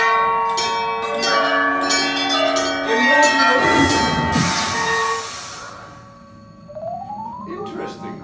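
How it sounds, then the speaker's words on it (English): A bell is rung once at the Wizarding World of Harry Potter in Universal Studios Japan, a loud, bright ringing tone that swells and decays over several seconds amid busy park ambience. "Ano bell wo ikkai narisemasu ka?"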